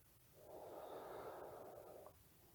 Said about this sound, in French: je vais respirer par la narine gauche